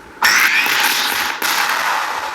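A firecracker bursts loudly with a sudden bright crackling blast that sustains and hisses for about two seconds, with a second sharp pop partway through.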